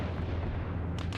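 A rumbling, low boom from US mortar fire in the Arma video game, a single dull, distant-sounding blast that rolls on for about a second.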